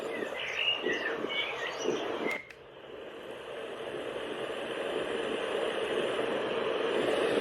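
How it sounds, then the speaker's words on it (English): An Ewan Deluxe rechargeable sleep aid plays bird song, faint chirps and tweets over a soft hiss that cut off abruptly, leaving a quiet steady noise bed. "bird song."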